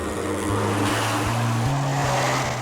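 A propeller airplane engine on a shredded plane runs steadily with a loud droning roar, its pitch shifting up and down in steps, close and continuous with no voices.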